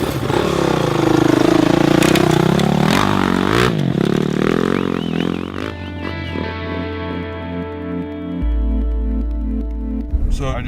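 A Honda off-road motorcycle in an off-road race, engine revving and whining up and down close by amid clatter, then settling into a steadier lower drone with a sudden deep buzzing burst near the end.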